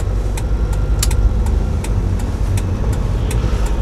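A car's engine runs steadily and close by during a manual-transmission driving lesson on the road, a continuous loud low hum with faint ticking above it and no speech.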